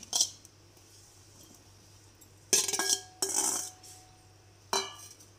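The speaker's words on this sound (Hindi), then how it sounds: "एक बाउल लेंगे, उसमें सबसे पहले हम आड़ू डालेंगे" Pieces of peach tumbling into a bowl in a home kitchen, a few separate clattering bursts with clinks of utensil against the dish, close and fairly quiet with pauses between, no talking.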